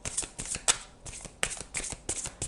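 Tarot cards are shuffled and drawn by hand, close up: a quick run of soft papery riffles and flicks, with several sharper snaps as cards slide off the deck, and no voice.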